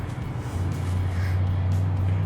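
A 1967 Plymouth Fury III with a carbureted engine idles as it warms up, a steady low rumble with a strong droning hum that settles and holds close by, no talk over it.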